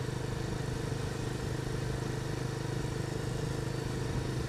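A Benelli motorcycle engine drones steadily at about 3,000 revs, a continuous mid-pitched hum with slight clatter, heard alone without talking. Five-speed gearbox, ridden in a high gear.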